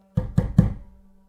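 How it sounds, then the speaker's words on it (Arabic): Three firm knocks land on an apartment door in an even, quick rhythm, close and fairly loud, each one a dull thud that fades into a short ring before it goes silent. "خبطت كام خبطة على الباب"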